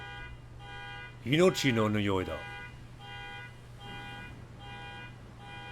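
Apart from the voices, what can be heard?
car alarm outside window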